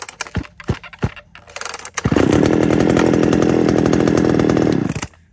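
A Shindaiwa 350 chainsaw, a used Japanese import, gives a few handling clicks and pulls, then fires up loud and close, roaring steadily for about three seconds before cutting off abruptly.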